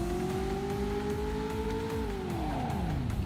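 Driver video game car doing a brake test, engine droning steadily then dropping in pitch as it brakes, with faint tire squeal and skidding near the end, loud and close.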